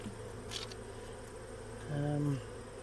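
Honey bees buzzing around a full hive, a faint steady drone in the background with one closer bee swelling loudly past near the end.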